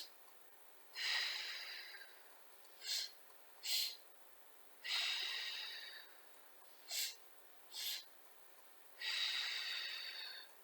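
Deep, audible breaths are drawn and released during Pilates leg kicks in a quiet room, long airy exhales alternating with short sharp sniffs in a steady rhythm.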